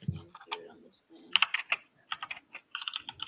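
Bursts of typing on a computer keyboard, quick uneven clicks in clusters with short pauses, moderately close, with a faint voice underneath at the start.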